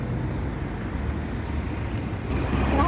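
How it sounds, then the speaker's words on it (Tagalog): Road traffic hums continuously at a street crossing while waiting for the light, a steady broad rumble of passing cars and larger vehicles, fairly close with no pauses. "Traffic guys."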